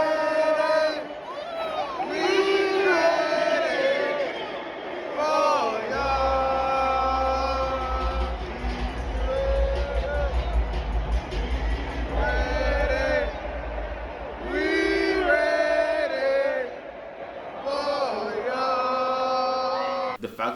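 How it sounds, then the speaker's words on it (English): A large crowd roars at an Atlanta Falcons game in Mercedes-Benz Stadium, with loud, swelling cheers and chant-like tones rising and falling in waves, and a deep booming rumble underneath through the middle stretch. "The crowd was rocking."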